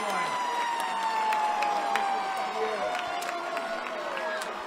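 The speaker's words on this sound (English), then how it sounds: "There goes that siren," A siren sounds at a high school football game after a Glynn Academy touchdown. It comes as a steady wail with a slowly falling pitch, heard over loud crowd noise and talk throughout.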